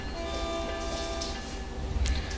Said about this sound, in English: A last honk, the bells for the platform.